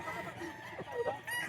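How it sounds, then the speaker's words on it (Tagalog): Gamefowl roosters crow and cluck faintly at a cockfighting breeder's yard in Bocaue, with a short rising call near the end. "Ito pa yung ibang mga manok ni Boss Delphin"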